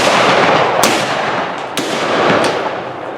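Black-powder Victorian rifles fire in ragged volleys on shouted command at a Bowling Green, Kentucky shoot, giving two loud sharp cracks about a second apart, then a smaller distant report, over steady outdoor noise.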